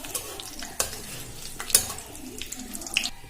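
Whole cumin, cardamom, cinnamon, clove, asafoetida and bay leaves fry in hot oil, giving a low continuous sizzle with scattered stirring clinks and scrapes.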